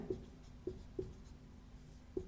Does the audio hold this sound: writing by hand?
yes